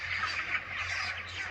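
A flock of 28-day-old chickens on a poultry farm in Calinan District, Davao, keeps up a continuous, close clucking chatter for a brief stretch, with no voices.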